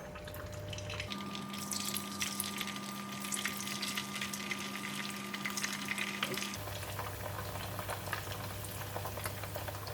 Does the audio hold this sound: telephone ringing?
no